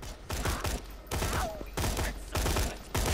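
Semi-automatic gunfire in the video game Borderlands 2, a run of separate heavy shots spaced roughly every half second, loud and punchy, with no talking over them.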